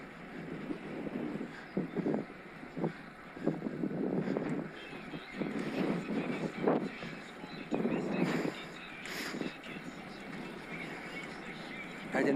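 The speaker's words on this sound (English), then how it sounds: "Into the headwind again." Headwind buffets the microphone while riding a Scott Addict RC eRide e-bike with a Mahle X20 motor, loud gusty rumbles rising and falling in uneven bursts, close and rough throughout.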